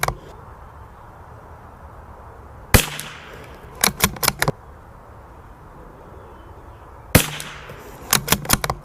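Sharp cracks of a Savage Mark II FV .22 rifle fired from a bench come in two groups, each a lone shot followed about a second later by a quick cluster of four shots, loud and close with quiet between.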